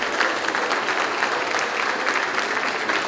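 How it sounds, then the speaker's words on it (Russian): An audience claps for a musician at a presentation event, a sustained even round of applause, moderately loud with no speech over it. "Аплодисменты."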